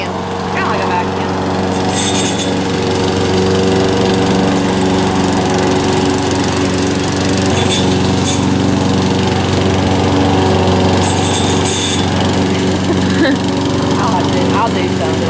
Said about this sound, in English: So today we are mowing the lawn.